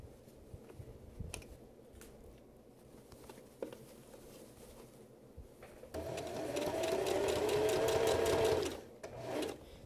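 A sewing machine backstitches during a sewing pattern project, first quiet handling noises, then a steady, fairly loud burst of rapid stitching for about three seconds before it stops, followed by a brief short run.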